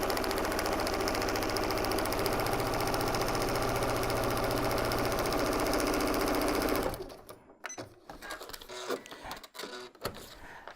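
A sewing machine runs steadily and close up while stitching down a fabric piece on a paper-pieced heart quilt block, a loud continuous mechanical whir that stops abruptly partway through, leaving scattered handling clicks and rustles.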